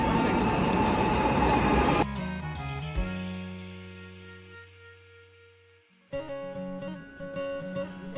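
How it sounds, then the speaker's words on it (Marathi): A train rumbles into a station in Prague with broad roaring noise, then a long tonal horn-like drone fades slowly before another loud burst of train noise close by. "फायनली ट्रेन आलेली आहे आफ्टर 45 मिनिट्स ऑफ डिले."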